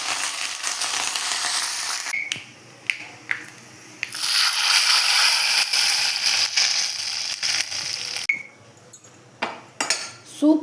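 Mustard seeds, fenugreek and curry leaves crackle and sizzle in hot oil in a kadai for drumstick sambar, a bright continuous hiss broken by sharp spatters and metallic clinks, close and fairly loud.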